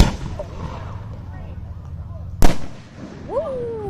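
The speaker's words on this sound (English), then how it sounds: "There's a fireworks going." Fireworks at an outdoor show in Kansas give one loud, sharp burst partway through, then a rumbling echo, over steady crowd and background noise, with a whistle-like rising tone near the end.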